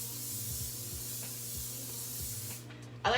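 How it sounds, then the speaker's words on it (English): Cooking spray is applied to muffin pans: a faint, steady hiss under a low hum builds to a sharp, close burst of spraying at the end. "I'm gonna spray them down."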